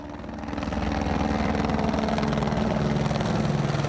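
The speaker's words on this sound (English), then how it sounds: "That's Border Patrol. That is one of their helicopters." A Border Patrol helicopter flies overhead near the border at El Paso, its rotor and engine thrum swelling in the first half-second and then holding as a steady, pulsing drone.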